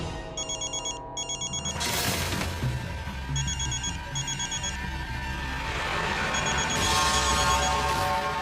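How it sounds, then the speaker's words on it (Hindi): A telephone rings repeatedly and goes unanswered, its bright electronic ringtone repeating in short bursts over dramatic background music in a TV drama scene. "बेल तो जा रही है, मम्मा फोन क्यों नहीं उठा रही?"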